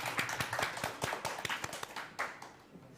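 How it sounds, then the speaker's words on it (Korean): An audience at a book talk claps, sparse distinct hand claps in an uneven rhythm that thin out toward the end. "박수 한번 주세요."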